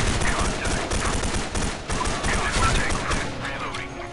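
Rapid automatic gunfire from the Aurora K2 rifle in the shooter game Special Force 2, dense continuous bursts of shots filling the clip at steady loudness.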